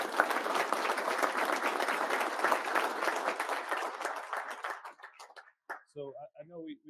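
An audience applauds an Army lieutenant general at a speaker event, sustained clapping for several seconds that thins out and gives way to a voice speaking.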